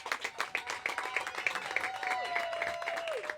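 Congregation at a church wedding clapping and cheering in rhythmic bursts, with a singing voice rising above the applause throughout.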